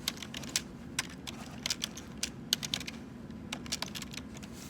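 Keys clatter on a computer keyboard in irregular bursts of quick, light taps with short pauses between them, close and moderately loud over a low steady room hum, with no voices.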